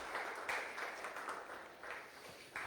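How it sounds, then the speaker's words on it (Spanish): Church congregation clapping during a Spanish-language sermon, a quiet, distant, continuous wash of hands clapping that rises and falls slightly. "Den una ofrenda de palmas a Él, a Jesús."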